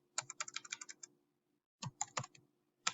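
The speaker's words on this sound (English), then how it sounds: "I'm having trouble with my typing." Typing on a computer keyboard, heard as close, rapid bursts of clicking keystrokes in two short runs and then a single brief cluster, separated by silent pauses.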